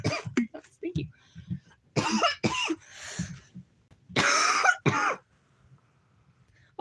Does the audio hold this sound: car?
no